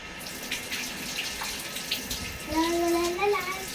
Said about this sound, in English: Wash your hand. Wash your hand.